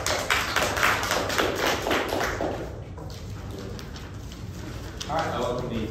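Applause at a university debate competition, a burst of clapping from an audience that fades and picks up again, with a voice heard over it.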